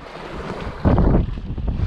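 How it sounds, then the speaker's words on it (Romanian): Wind gusting across a lake during early-morning fishing, a steady broadband rush that swells louder midway and stays strong, with faint water movement beneath and no voices. "Bate vântul"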